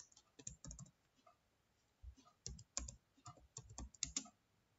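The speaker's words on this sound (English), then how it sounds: "Now we'll type the program" Typing on a computer keyboard, entering an HTML program in Notepad: quiet, close key clicks in irregular bursts with short pauses between runs of keystrokes.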